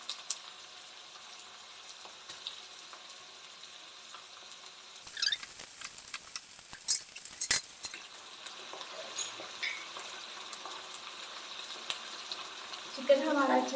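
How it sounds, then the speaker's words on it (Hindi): Pieces of chicken sizzling in a pan of golden fried onions, a steady soft hiss with louder bursts of crackle and stirring in the middle, fairly close. "अब हम इसमें डाल देंगे अपना चिकन और उसे फ्राई करेंगे"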